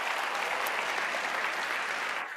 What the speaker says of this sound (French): pendant que vous applaudissez poliment